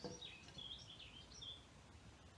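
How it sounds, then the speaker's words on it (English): Faint birds chirp and warble in short high phrases over a low steady background hum, no voices present. "Can you hear the birds singing?"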